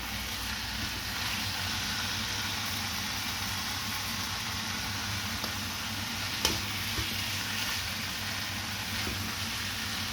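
Rice and chicken basquaise being stirred in a hot pan, a steady soft sizzle with faint scraping and one sharp clink of a utensil midway, continuous and fairly quiet.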